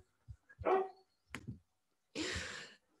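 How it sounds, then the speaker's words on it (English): Several dogs bark outdoors in short separate bursts: a couple of sharp yaps, then a longer rough bark after a pause, with near silence between them. "Dogs barking in the background."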